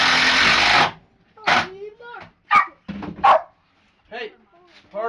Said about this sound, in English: And we got dogs barking.